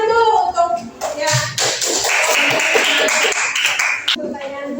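Classroom applause during a guidance lesson, a steady wash of clapping from many students lasting a few seconds, with a teacher's voice speaking at the start and end.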